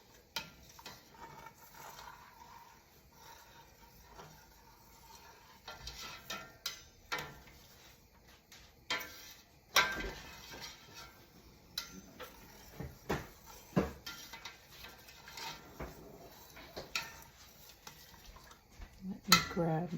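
A spoon stirs curdling pumpkin seed tofu in a pot, making scattered scrapes and clinks against the metal, with a person talking quietly in between.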